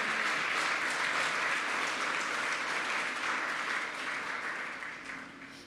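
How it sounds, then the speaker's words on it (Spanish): A church congregation claps loudly and steadily, with a dense, sustained ovation that slowly fades toward the end. "Dale un aplauso fuerte a Él, por favor."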